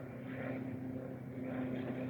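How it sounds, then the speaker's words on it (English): A propeller airplane passes overhead above a Lincolnshire nature reserve, heard as a steady, moderately loud drone with a low engine hum that swells and eases slightly, with no talking. "I can hear a plane."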